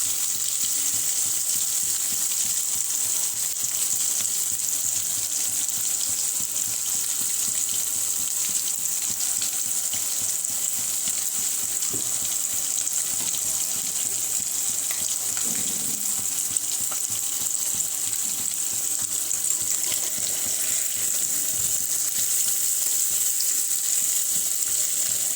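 Fish frying crispy in hot oil for a curry, giving a steady, even sizzling hiss that holds for the whole stretch with no voices over it.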